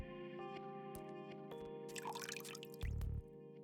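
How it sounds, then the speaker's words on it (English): Bathroom faucet running in a video game, a soft steady trickle of water with faint dripping over a constant background hum, briefly louder splashing near the end. "The sound of a running faucet can be heard from the bathroom."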